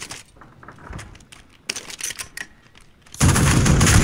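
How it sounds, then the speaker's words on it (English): Gunfire in a multiplayer shooter video game, with scattered sharp shots and bursts early on, then a sustained loud burst of automatic fire toward the end. "Let's see what Steven is shooting at."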